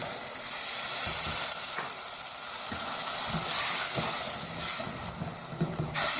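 Ginger paste frying in a pan for Masala Mutton as tomato puree is added, a continuous loud sizzle and hiss with soft scraping and stirring knocks throughout, close up with no talking.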